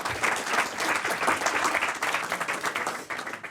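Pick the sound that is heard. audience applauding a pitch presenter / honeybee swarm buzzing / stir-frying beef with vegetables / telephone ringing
audience applauding a pitch presenter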